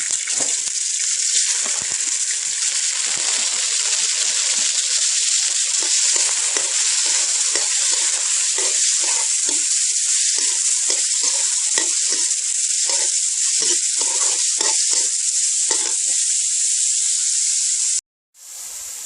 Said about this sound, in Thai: กระทะเดือดแล้วก็เอาหมูลงไปผัดก้อนจ้า